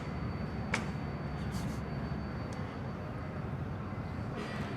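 A fixed-wing airliner rolls for takeoff on runway 19 right at Bangkok Suvarnabhumi Airport, heard as a steady, distant engine roar and rumble that holds evenly throughout with no voices.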